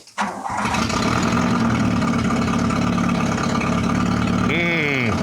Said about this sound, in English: That, my friends, is the sound of a cracked downpipe.